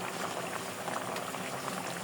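A thin fish curry of river tatkini and tengra fish, seasoned with cumin powder, bubbles steadily in the pot, giving a continuous close simmering hiss with no pauses.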